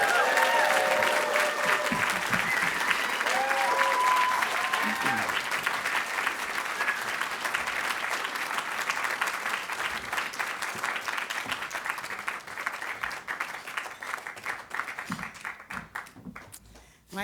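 An audience at the 44th Los Angeles Film Critics Association awards show applauds a Best Production Design recipient, loud sustained clapping with some crowd voices that thins and fades toward the end.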